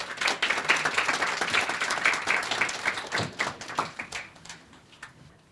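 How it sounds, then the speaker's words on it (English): Audience applause at a talk on wellness and design, a crowd's brisk clapping with individual sharp claps, tapering off toward the end. "So if you can give a great round of applause."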